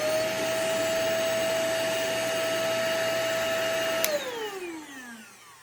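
A Shark Professional Swivel vacuum cleaner motor with worn bearings, running loud and close as a steady whine and roar, then switched off and winding down with a falling pitch.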